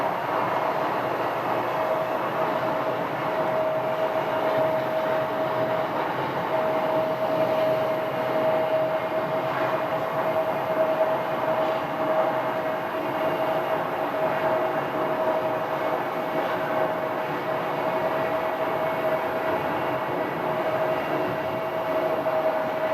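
CRJ jet engines run at Phoenix airport with a steady, continuous roar and a sustained tonal whine, holding at an even level with no voices.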